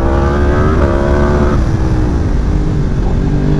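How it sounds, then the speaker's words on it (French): A loud engine drones steadily with a rising and falling pitch, like a Yamaha R1 or R1M sport motorcycle revving nearby, and it stays continuous throughout. "J'entends le son de ta moto en triple"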